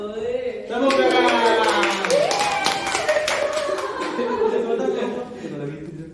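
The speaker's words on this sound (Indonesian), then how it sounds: "Tepuk tangan." A classroom group claps in a quick rhythmic burst of hand claps amid chuckles and overlapping voices, fairly close and moderately loud.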